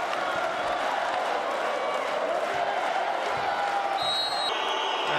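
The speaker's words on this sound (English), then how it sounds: "Listen to that from this Fenerbahce crowd" The Fenerbahce home crowd roars at a Champions League volleyball match in Istanbul, a dense, continuous wall of cheering with shrill whistles cutting through near the end.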